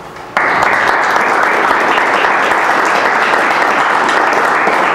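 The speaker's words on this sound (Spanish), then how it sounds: "De nuevo, un aplauso." Audience at an academic talk on geometric origami breaking into loud, steady applause that starts abruptly and continues evenly for about five seconds.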